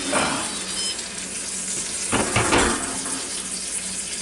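Lifting the lid off an Instant Pot Duo Crisp air fryer exposes a bacon-wrapped pork loin filet, releasing a loud, close, continuous sizzle with a brief clatter of the lid partway through.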